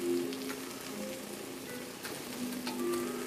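Onions and rice browning in a pan give off a soft, steady sizzle, a fine crackling hiss that stays fairly quiet and continuous, with a faint low hum beneath it and no voices.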